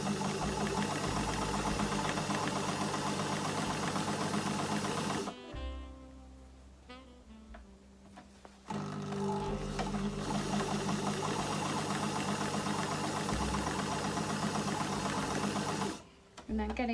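A sewing machine stitching the seam of a homemade Christmas napkin runs in a fast, steady, close mechanical whir that stops briefly partway through and then resumes.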